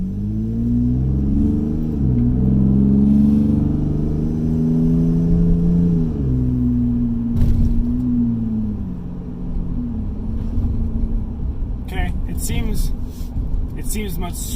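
A 2016 Chevrolet Colorado fitted with an AFE throttle body spacer cruises with a steady engine drone and low rumble that rises and falls with throttle. A voice talks over much of it.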